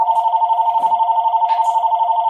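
A telephone rings steadily for the whole stretch, a continuous loud electronic bell tone with a pulsing warble, close and alone with no talk over it.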